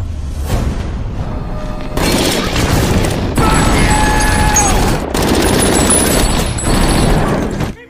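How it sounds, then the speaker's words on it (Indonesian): Gunfire in a heist film scene as FBI agents storm a building, with dense bursts of shots, booms and crashing impacts layered into a loud, continuous action mix for several seconds, ending abruptly. "FBI lalu lanjut masuk ke dalam dan menembak Des sampai meninggal."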